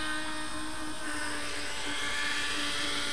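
An electric fuel pump switched on to run a home-built injector flow test bench for a 1UZ turbo engine, a continuous high whine with faint tonal lines over a low hum, steady and fairly quiet.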